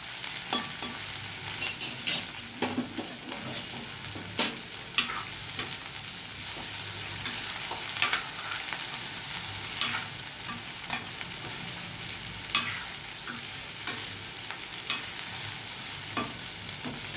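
Okra frying in hot oil in a pan, a steady close sizzle broken by repeated scraping stirs and sharp clacks of a spoon against the pan, with no talk.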